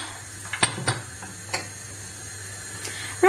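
A gas stove's igniter clicks a few times while heating a pan for kadhi, a spiced yogurt gravy: several sharp, separate ticks spaced unevenly over a quiet kitchen hum, with no talking.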